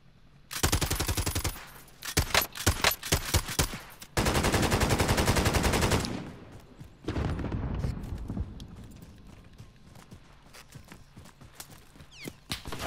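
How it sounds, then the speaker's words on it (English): Enemies fire on the player in Call of Duty: Modern Warfare, heard as loud bursts of rapid automatic gunfire in several volleys, followed by quieter scattered shots and rumbling battle noise. "Oh, they're shooting at us."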